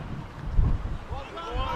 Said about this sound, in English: It's really, really windy now.